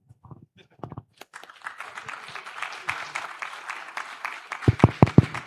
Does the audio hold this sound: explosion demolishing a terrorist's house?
no